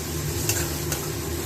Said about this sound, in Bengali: পেঁয়াজটা একটু একটু ভাজা ভাজা হয়ে গেছে